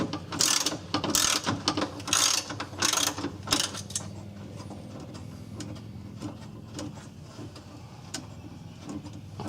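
A ratchet with a 13 mm socket removes a bolt from a shield on a Ford Ranger during fuel tank removal, making loud bursts of rapid clicking in quick strokes, then quieter fainter mechanical ticking.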